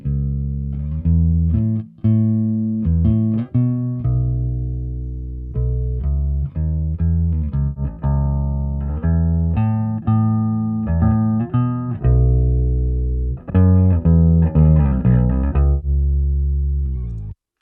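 Bass guitar riffing through an 8x10 cabinet, then switched mid-play to a 15-inch cabinet, loud and close with sustained low notes, sharp attacks and brief gaps between phrases, no talking.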